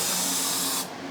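Aerosol spray paint hisses steadily onto a vintage police car, a continuous close burst that cuts off abruptly near the end.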